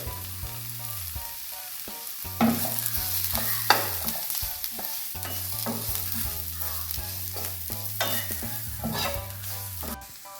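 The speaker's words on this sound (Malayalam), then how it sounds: "നമ്മുടെ പൊടികളെല്ലാം ഇവിടെ നന്നായിട്ട് മൂത്ത് വന്നിട്ടുണ്ട്" Spice powders including black pepper, Kashmiri chilli powder, turmeric and salt fry in a pan, with a continuous sizzle and intermittent scraping strokes of a spoon, while a low melodic tone plays underneath.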